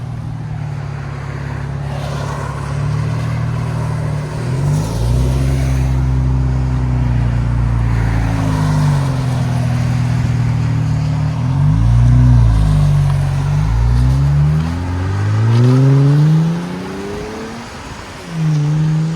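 A 2024 Nissan Z with its 3.0L twin-turbo V6 and AWE Track cat-back exhaust, driven in rain and traffic, drones steadily and rises in several loud revving pulls with rapid shifts, close and continuous, with no talking.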